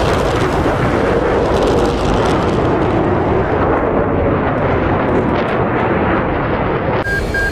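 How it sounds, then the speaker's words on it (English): Jet afterburner in the DCS World flight game, a loud, continuous, powerful roar that holds steady for several seconds before cutting off abruptly near the end. "It's so freaking cool with its new afterburner sounds."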